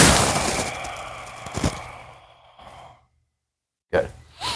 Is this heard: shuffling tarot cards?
no